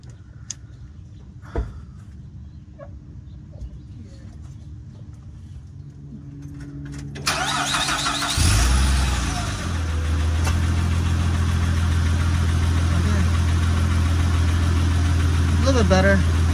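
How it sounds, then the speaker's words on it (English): A car engine with a patched catalytic converter pipe turns over and starts midway, then holds a steady, loud idle with a low exhaust drone, after some quiet handling noises. "So we're gonna start up the car to see how this sounds like."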